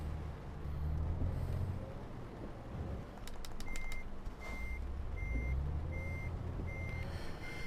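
Euro Truck Simulator 2 game audio: a Volvo FH truck reverses with a low engine drone and evenly spaced reversing beeps, moderately faint.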